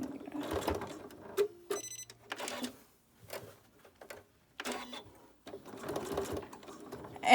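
Sewing machine stitching around the outside edge of a homemade fabric medical mask with elastic, short bursts of rapid mechanical whirring separated by pauses.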